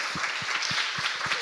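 An audience at the Cambridge Union applauds a singer, giving a dense wash of clapping with a few distinct claps standing out near the front.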